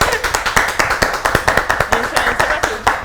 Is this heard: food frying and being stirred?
no